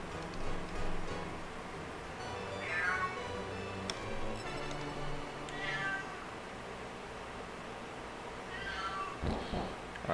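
A cat meows several times in a room during a Breath of Fire game run. The calls are drawn out and rising, close by and moderately loud. They sit over a faint hum of background noise.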